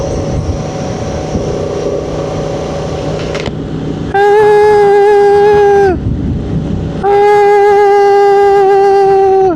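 Loud tyre noise from a Honda Transalp 750 at 100 km/h inside a helmet, with wind roar plus a strong tonal whine that rises in two long stretches, briefly drops away, then returns.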